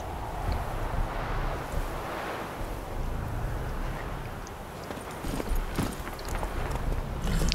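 Roach, Geralt's horse in The Witcher 3, clip-clops steadily at close range over light wind and rustling ambience in the game world, without anyone speaking.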